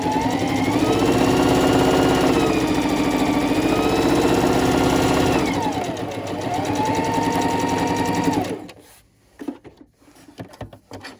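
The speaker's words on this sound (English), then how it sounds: "now finish up this edge and just sew right to the edge of my bag." Sewing machine stitching along the edge of a fabric reusable gift bag, a steady loud mechanical whir for about eight seconds, briefly slowing midway, then stopping into quiet clicks and handling.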